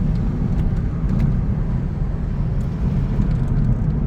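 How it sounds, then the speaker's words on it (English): Steady, loud engine drone and road roar from inside a Toyota MR2 Mk3 cruising at 60 mph in 5th gear, a continuous low rumble with no talking. "You can hear the noise now from that engine"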